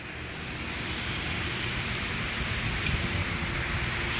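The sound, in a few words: heavy rain falling at Vapi Bhilad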